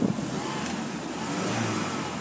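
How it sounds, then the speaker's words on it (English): A 2001 Honda S2000 engine revs steadily and loudly up close, a sustained high-pitched roar without pauses or voices. "Let me rev this engine up so you can hear this thing."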